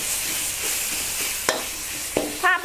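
Minced pork stir-fries in a pan with a steady close sizzle, broken by a few sharp scraping clicks of the spatula and a brief voice at the very end.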